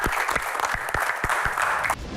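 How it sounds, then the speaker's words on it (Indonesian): Live audience at a comedy Q&A show breaking into dense, lively applause that holds steady for about two seconds and then cuts off abruptly. "tepuk tangan untuk Pak Bolot."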